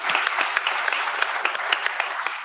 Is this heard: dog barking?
no